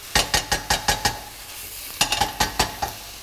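Food tossed in a hot wok with lemon sizzles steadily while rapid rhythmic metallic scrapes and clanks repeat in two bursts, close and loud with no talk.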